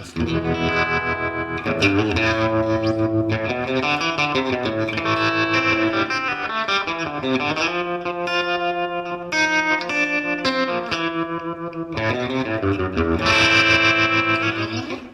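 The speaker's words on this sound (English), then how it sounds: "And then, of course, the optical trem, which I've kind of fallen in love." Electric guitar chords and melodic lines through an optical tremolo effect, with a pulsing, wavering tremolo, played steadily and fairly loud without pauses.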